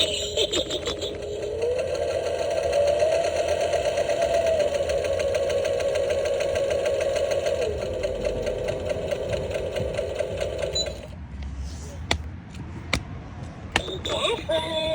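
A sewing machine runs steadily for about eleven seconds with a whirring, buzzing motor tone and rapid needle clatter, then stops, followed by scattered clicks and light handling noises.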